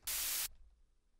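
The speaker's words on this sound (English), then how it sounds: "then just simple white noise with 3 oscillator" A burst of white noise from the 3 Oscillator synth plugin, with no effects, hisses loud and flat for about half a second, then cuts off abruptly to near silence.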